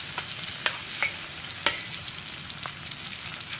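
Chicken legs stir-fried in a wok: a steady bright sizzle with several sharp scrapes and clanks of the spatula against the wok, close and loud, with no talking.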